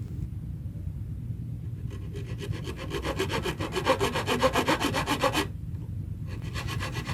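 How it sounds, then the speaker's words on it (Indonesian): A hand saw rasps back and forth through a wooden guitar fingerboard, cutting fret slots, strokes growing louder and quicker in the middle before a brief pause and a few more cuts. "Gergaji sesuai kedalaman kaki fret."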